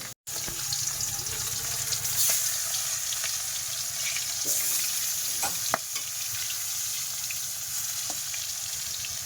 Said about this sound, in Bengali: মাছগুলো এখন ভালো করে ভাজবো।